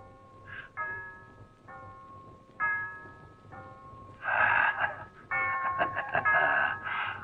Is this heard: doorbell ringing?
yes